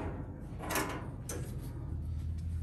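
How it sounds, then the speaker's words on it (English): A cotton gin drum smoker door is opened, giving a short metallic scrape and clunk followed by a second, softer knock, heard close with a low steady background hum and no talking. "Open the door."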